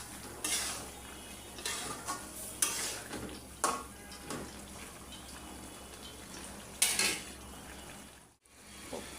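Beef liver and potatoes stir-fried in a pan, with a spatula scraping and clinking against the metal in bursts over a steady low sizzle, close up with no talking.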